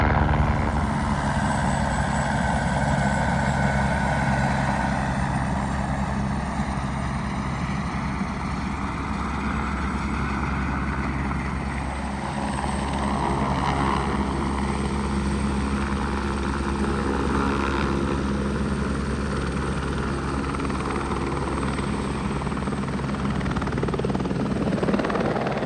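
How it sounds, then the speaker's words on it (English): A helicopter makes a low pass overhead during flint hunting outdoors in Scandinavia, its steady rotor thump and engine roar loud and continuous throughout with no talking. "The helicopter's back for another really low flyby this time."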